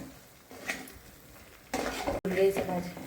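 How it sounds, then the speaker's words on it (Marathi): Matar paneer masala with chilli powder and coriander powder being stirred and sautéed in oil in a pot, with a spoon scraping and clinking against the metal in irregular strokes that grow louder partway through. "आता हे छान परतून देऊ आपण तेल सुटेपर्यंत"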